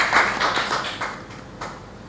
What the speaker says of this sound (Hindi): उनके लिए ताली बजा दीजिए।